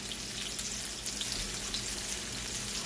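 Mushrooms sizzle in a pan for a broccoli stir fry, a soft, steady frying crackle with faint pops, heard close and alone.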